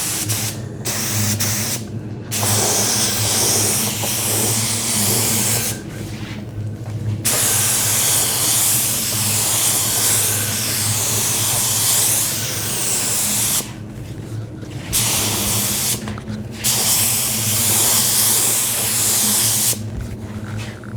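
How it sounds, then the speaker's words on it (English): A spray gun sprays lacquer top coat onto cabinets in long, loud, close hissing bursts, several sustained passes separated by brief pauses. "Notice how we squirt underneath those edges."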